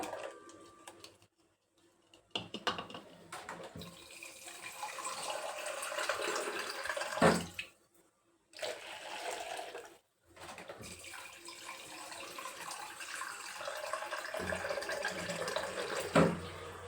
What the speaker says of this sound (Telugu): ఇందులో ఇప్పుడు మనకి ఎన్ని వాటర్ కావాలనేది దీనిలో యాడ్ చేసుకోవచ్చు